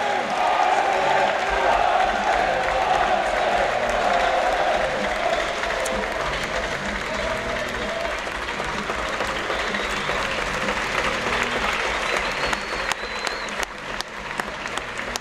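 Stadium crowd at the main stand applauding the Offenbach football team at its season-opening training, a steady, loud wash of clapping that holds throughout with a few scattered cheers.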